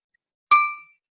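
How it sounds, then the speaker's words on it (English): A glass is struck once and rings out with a bright, clear tone that decays within about half a second, close and alone in a quiet room. "the glass is vibrating"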